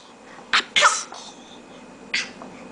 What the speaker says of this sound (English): Oh, are you sneezing?